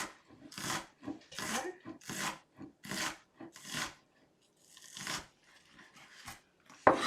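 A knife chops onion on a cutting board in a kitchen, a steady series of soft rasping strokes at close range. A voice speaks briefly near the end.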